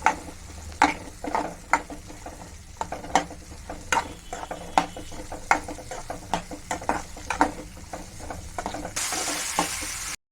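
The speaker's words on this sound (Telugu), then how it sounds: "ఇలాగ వేయించుకోవాలి కొంచెం చిన్నలో పెట్టి వేయించుకోండి" Ingredients for pulihora frying gently over a low flame, a soft sizzle broken by regular sharp spatula clicks and scrapes against the pan, close up and alone, with a brief hiss burst at the end.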